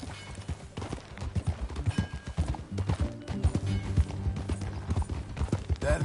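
Horse hooves clip-clop in a steady, uneven rhythm of close, distinct strikes, with a brief whinny mixed in and faint background sounds, no speech.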